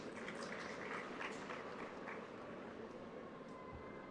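A large graduation-ceremony audience claps steadily, a dense even wash of applause heard from a distance and continuing throughout.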